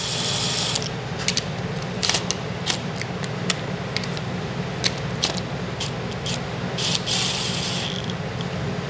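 A ratchet with an 8mm socket turns a small screw on a 392 HEMI engine, giving a series of quick, close clicks in short bursts over a steady background hum.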